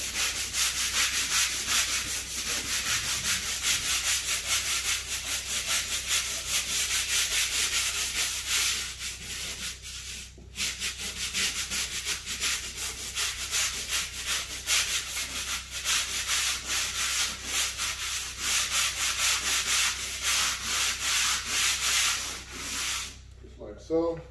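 A travertine floor's grout lines are scrubbed by hand, a continuous, close, abrasive rubbing that carries on steadily with only a few brief pauses, and no one speaks.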